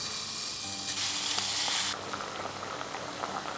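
Ground meat fries in hot corn oil with a loud, bright, dense sizzle that drops noticeably in intensity about halfway through, then settles into a steadier crackle.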